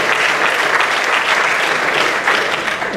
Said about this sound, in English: So a round of applause for Dan